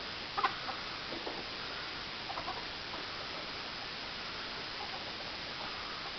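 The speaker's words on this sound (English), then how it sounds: "how are you, Mr. Pheasant?" A pheasant calls near a feeder outdoors, giving a few faint, brief clucks and squawks in the first seconds before fading into soft, steady background hiss. No one speaks.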